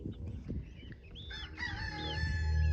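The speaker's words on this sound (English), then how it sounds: "there's my baby chicks" Baby chicks and grown chickens in a backyard flock of Brahmas and Americanas, with high peeping calls and a clear rooster-like crow rising over steady clucking. The sound grows louder toward the end, and no one speaks.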